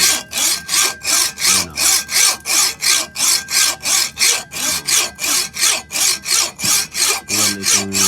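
A rusty hand saw rasps back and forth through hard rock in a steady rhythm, about two strokes per second, loud and close, with a brief spoken remark near the end.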